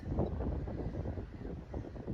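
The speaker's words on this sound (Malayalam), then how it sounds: "നല്ല കാറ്റുണ്ട്." Strong wind at Dhanushkodi on the coast buffets the microphone, a continuous low rumbling roar with gusty swells, loud and close, with no voices.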